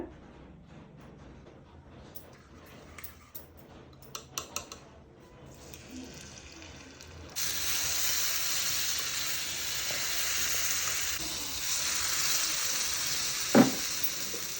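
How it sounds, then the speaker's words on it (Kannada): Oil heating in a paddu pan for jowar masala paniyaram breaks into a steady, close sizzle about halfway through, with softer clatter and rustling before it and one brief sharp knock near the end. "ಪಡ್ಡು ತವ ಕಾಯಕ್ಕಿಟ್ಟಿದ್ದೆ. ಇದಕ್ಕೆ ಸ್ವಲ್ಪ ಎಣ್ಣೆ ಹಾಕೋತೀನಿ."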